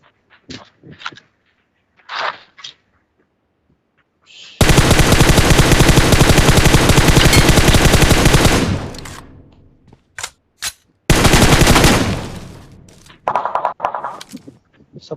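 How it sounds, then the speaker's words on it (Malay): Automatic gunfire in the PUBG Mobile battle game: two long, loud sustained bursts, one of about four seconds and a shorter one after, with brief voice fragments and clicks between them. "Siapa yang menembak?"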